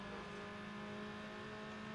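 Car engine in Need For Speed Underground revving high with a steady droning tone, loud and continuous for two seconds with no speech over it.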